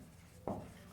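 Single short scratch of chalk or marker writing on a board during a maths lesson, close and fairly quiet, lasting about a tenth of a second over a faint room hum, with no voice.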